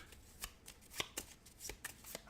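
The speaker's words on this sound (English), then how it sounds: "And shuffle your deck." A deck of cards for the Marvel Champions card game is shuffled up close, producing a quiet series of quick crisp riffles and soft taps in an irregular rhythm, with no voices.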